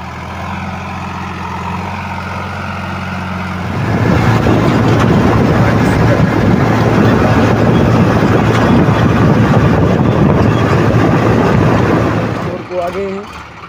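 A Sonalika Sikander DI 35 tractor pulls a trolley loaded with 108 sacks of potatoes up a steep climb. A quieter engine hum swells into a loud, strained, rough labouring roar that lasts several seconds and then cuts off abruptly.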